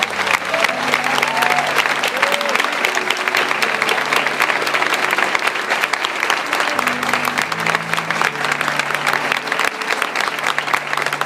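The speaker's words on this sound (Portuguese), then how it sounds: "Eu quero que você aplaude o Senhor pela vida deles." A church congregation applauds loudly and steadily throughout, dense hand clapping with crowd noise and a few voices, while faint organ or keyboard notes sound underneath.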